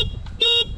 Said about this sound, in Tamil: அண்ட் இது வந்து ஹார்ன்.